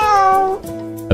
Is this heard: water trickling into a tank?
no